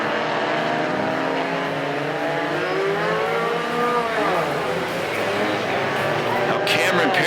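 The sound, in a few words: Mini Stock race cars on a figure 8 track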